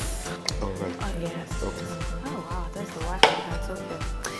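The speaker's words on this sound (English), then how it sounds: "I'm going to grab this chopping board, because you're going to chop." Knife chops food on a chopping board while making spaghetti bolognese, a steady rhythm of close, sharp thuds about twice a second, with a louder clack near the end and light kitchen clatter.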